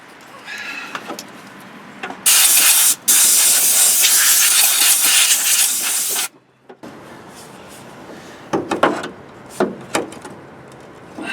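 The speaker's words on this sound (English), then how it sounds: "I think I'm gonna blow the dust off before I go any further." Compressed air from a compressor blowing dust off a Ford F150 during fuel pump work, one loud steady hiss lasting about four seconds with a brief break, followed by quieter clatter and handling noises.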